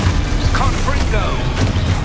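Confringo spell explosion in the video game Hogwarts Legacy, a loud continuous rumbling blast with low booming energy and crackling debris throughout.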